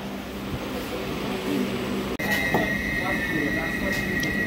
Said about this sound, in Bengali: তো ট্রেন একদম টাইমে ছেড়ে দিয়েছে, 6:50 ছাড়লো ট্রেন